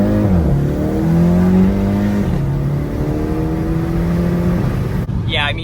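Volkswagen GLI engine revving up in one close, loud sweep, then holding and settling in pitch with a steady drone, as a voice begins near the end.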